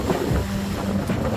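A sailing yacht motors on one engine with the genoa out at about 7 knots off the Croatian coast, producing a steady low rumble blended with rushing water and wind noise.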